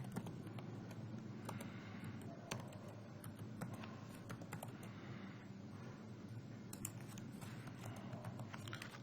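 A computer keyboard clicks in short, uneven bursts of keystrokes while details are entered into a form, faint and close with no voices.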